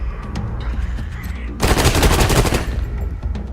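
Automatic weapon fire in the video game Wasteland, a rapid burst of loud gunshots lasting about a second in the middle, set against quieter game background sound before and after.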